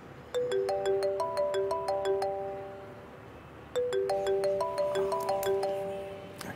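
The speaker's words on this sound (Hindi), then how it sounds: "क्या हो गया रिदा, क्यों बार बार फोन कर रही है तुम" A phone ringtone plays a bright, repeating electronic melody in two loud, close bursts separated by a short gap, with no voices heard.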